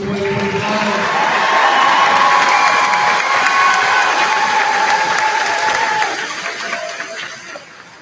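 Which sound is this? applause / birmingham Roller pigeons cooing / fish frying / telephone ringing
applause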